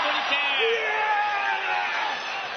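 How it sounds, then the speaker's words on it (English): A crowd at a cinder block ring wrestling event yells and whoops in a loud, dense, continuous roar, with raised voices standing out over the mass. "we hear the crowd chanting for them"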